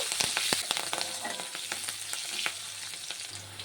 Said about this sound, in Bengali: তেলটি গরম হয়ে গেছে, দিয়ে দেবো একটু কালো জিরে ফোড়ন, দেব কয়েকটা কাঁচা লঙ্কা